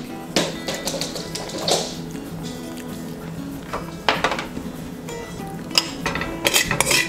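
Trail mix tossed in a bowl with raisins and salt, giving scattered clinks, taps and rattles of pieces against the bowl, close and fairly quiet, with a few brighter bursts.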